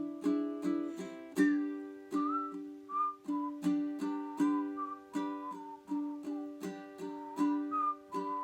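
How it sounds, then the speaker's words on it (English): Whistled outro melody of a song, carried over strummed ukulele chords; a clear, close whistle glides between sustained notes while regular strums pulse underneath throughout, with no talking. "Extra points if you can whistle and play at the same time."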